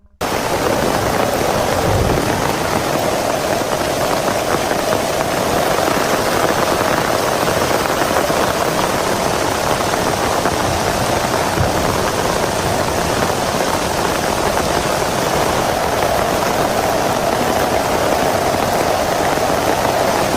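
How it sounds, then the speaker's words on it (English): Heavy rain pours in a dense, steady rushing wash for the full stretch, loud and close with a low rumbling undertone, as a massive storm with sheets of rain and howling wind through trees. "a massive storm rolled in, thunder roaring, rain crashing down in sheets"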